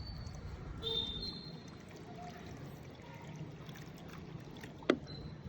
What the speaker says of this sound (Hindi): तो पानी डाल रहे हैं हम इसमें, सारा पानी डाल देंगे।